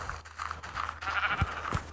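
Sheep bleating in the video game Minecraft, a few short bleats repeating over a continuous background hum.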